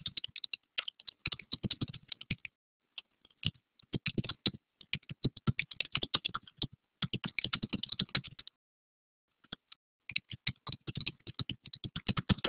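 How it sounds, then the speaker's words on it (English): Fast, irregular keystrokes on a computer keyboard, coming in close bursts with short pauses in between and no voices over them. "Just going to type it out."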